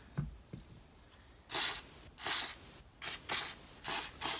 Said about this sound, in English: I'm going to crack on with the spray degreaser and get this bad boy clean